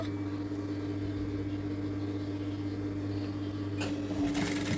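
A sewing machine runs steadily while stitching a sleeve with the needle lowered, giving a continuous mechanical hum and whir that ends in a brief burst of rattling near the close.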